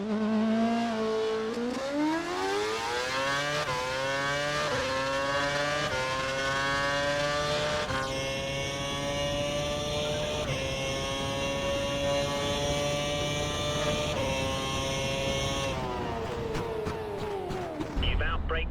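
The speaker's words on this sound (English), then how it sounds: "Head down the track accelerating past 160 miles per hour, then brake so that you come to a complete stop" A Formula 1 car in a racing video game accelerates hard down the track, its engine note climbing through gear changes, loud and continuous, then easing off under braking at the end.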